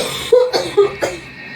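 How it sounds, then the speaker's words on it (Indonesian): Three quick, raspy coughs from a woman, close up and fairly loud, with brief gaps between them. "Kamu nggak dengar tuh Mama udah batuk-batuk."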